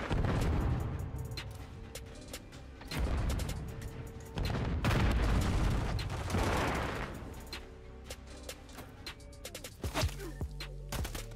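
SMG fire and other gunfire in Call of Duty, with several loud, close bursts of rapid shots and sharp single cracks separated by quieter gaps over about eleven seconds.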